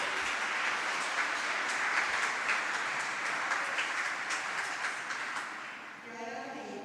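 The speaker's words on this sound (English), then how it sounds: "big round of applause to him." An audience at a European Greens conference applauds, a steady dense wash of clapping that fills the hall and fades slightly near the end, with a voice starting to speak over it.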